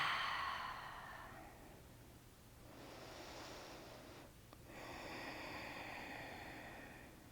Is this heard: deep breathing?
yes